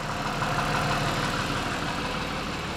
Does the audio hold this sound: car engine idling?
yes